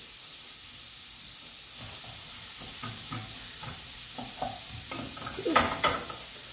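Red pepper and onion cooking in a pan, a steady soft sizzle with scattered stirring scrapes and a couple of louder clatters near the end, no talking.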